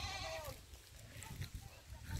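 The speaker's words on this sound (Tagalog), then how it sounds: "Ayun pa po yung mga ibang kambing." Goats penned up on a farm give a wavering bleat at the start, followed by faint, scattered calls over low background rumble.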